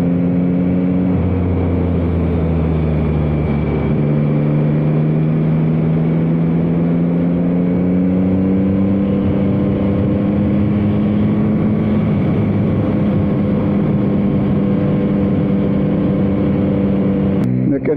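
A 2021 Yamaha MT-09 motorcycle engine drones steadily while riding, its tone rising and falling through quickshifted upshifts, heard close under continuous wind noise with a rider talking throughout.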